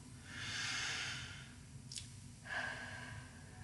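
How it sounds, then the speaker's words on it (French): A slow deep breath, close and quiet: a long breathy inhale, a short sniff, then a softer airy exhale, with no talk over it. "Alors, prenons une profonde respiration."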